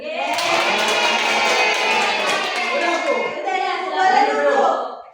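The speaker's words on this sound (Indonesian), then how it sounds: "kita kasih apresiasi untuk kelompok satu berupa tepuk tangan" Students in a classroom during a microteaching lesson applaud a group together, a loud burst of hand clapping mixed with children's voices and cheering that continues for several seconds.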